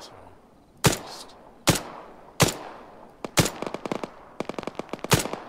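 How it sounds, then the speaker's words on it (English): Gunfire in the video game Antistasi Plus: single loud shots at first, then rapid bursts of automatic fire, fairly close and sharp, with a brief murmur from a voice. "I hear a lot of gunfire."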